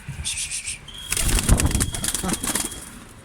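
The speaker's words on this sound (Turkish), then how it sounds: "Bakın keller nasıl uçuyor size göstereceğim şimdi" Young pigeons beat their wings loudly in a burst of flapping takeoff on their first flight, preceded by soft bird calls and chirps nearby.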